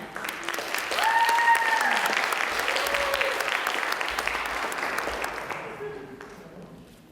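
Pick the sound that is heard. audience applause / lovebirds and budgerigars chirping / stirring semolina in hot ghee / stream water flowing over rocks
audience applause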